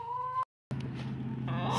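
A backyard chicken recovering from a bee sting clucks nearby in short tonal calls, broken by a brief silence and then resuming with a fuller, slightly raspier run of clucks.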